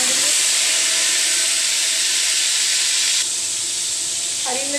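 Tomatoes dropped into a pan of golden fried onions for fish biryani, giving a loud, steady sizzle and hiss that runs throughout, easing slightly near the end.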